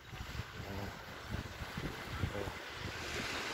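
Sea waves roll and wash on the beach at Savona, Italy, making a steady broadband surf with soft wind buffeting on the microphone. There is no clear talking.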